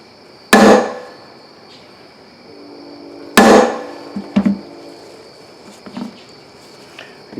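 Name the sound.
hammering part into Borg Warner transfer case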